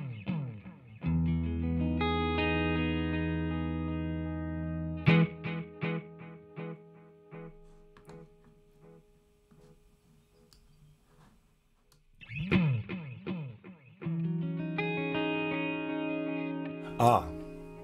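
An Arturia space echo tape delay plugin repeats synth tones into decaying echoes with heavy reverb, sustained chords followed by trailing repeats and clicks, swelling and fading in two separate bursts.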